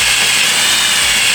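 A power drill whirs steadily at close range, drilling a pilot hole on a Nissan S14 Silvia, a continuous high-pitched grinding hum with no pauses and no voices.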